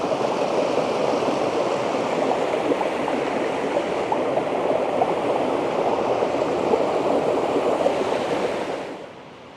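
A river in full flow after a week of steady rain, somewhere in rural Wales, rushes in a loud, continuous broadband roar close by that holds steady before fading out in the last second.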